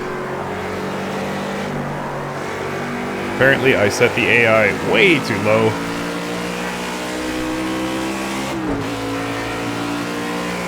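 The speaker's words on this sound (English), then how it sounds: "But I like the sound of this Chevrolet." Chevrolet race car engine in Project Cars 2, a sustained high-revving racing drone with shifting pitch and a brief break near the end. Someone speaks over it partway through.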